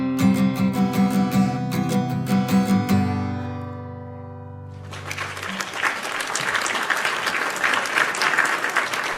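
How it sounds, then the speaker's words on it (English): A studio audience gives a rapturous round of applause to welcome a guest on a talk show, dense clapping and cheering starting midway and sustained, after a stretch of music with a steady beat. "That is a rapturous round of applause there for our next guest, Freddie Meredith."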